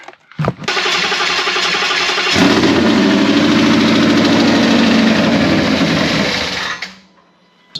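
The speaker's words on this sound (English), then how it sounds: "It fires, just doesn't want to stay running." A Gen 3 Coyote V8 swapped into a 1993 Ford Fox Body hatchback cranks and fires, then runs roughly and loudly close by for about six seconds before stumbling and dying out.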